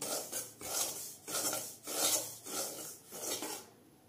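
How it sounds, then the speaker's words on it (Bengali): Dry semolina stirred in a pan over very low heat gives rhythmic gritty scraping strokes, about six close, even passes with brief pauses between, alone and without talk. "সুজিটা একটুখানি হালকা করে ভেজে নেবো যাতে সুজির মধ্যে কোনো কালার না ধরে"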